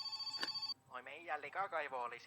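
A telephone rings inside the My Summer Car video game, a short burst of bell tones at the start before a voice talks over the rest.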